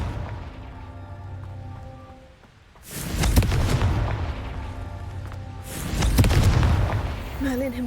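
A Confringo fire spell bursts twice in the Hogwarts Legacy video game, each a loud, booming explosion with a crackling, broadband rush that decays slowly over a low background hum, the second blast following about three seconds after the first.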